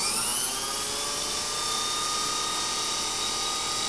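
A Unimat 3 lathe motor runs steadily at a lower speed, giving a continuous high, whining mechanical hum that stays even and close for the whole stretch, with no voices over it.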